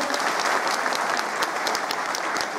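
Steady, dense applause from a temple crowd honouring a kirtan performer at a Bhairavnath temple Harinam Saptah ceremony, loud and continuous with no break.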